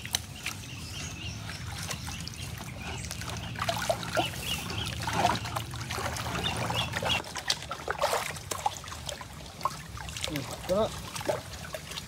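Water trickles and gurgles out through a newly built fishpond drain on a farm, a steady close flow with splashy bursts while a person talks over it.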